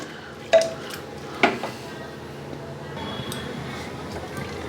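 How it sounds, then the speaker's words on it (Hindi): Mustard greens for Punjabi sarson ka saag being mashed in a pot on a gas stove: two sharp metallic clanks of the utensil against the pot, then softer stirring and scraping sounds, with talk alongside. "तो गैस को हम जला लेंगे और इसको घोटना शुरू करेंगे।"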